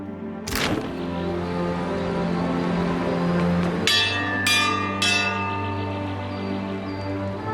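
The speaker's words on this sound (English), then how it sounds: "It's 3 loud rings from the boating bell." A ship's boat bell in a Pillars of Eternity II pirate fantasy game rings out three loud metallic strikes, the first alone, then two close together later, each leaving a long shimmering ring that decays over a low background hum.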